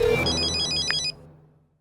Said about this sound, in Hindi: हेलो अनिल, क्या बात है? आधी रात को फोन, याद आ रही है क्या मेरी?